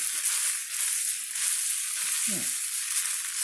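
Steady loud sizzling of spaghetti stir-frying in a frying pan for Japanese-style Napolitan, with a brief scrape of stirring partway through.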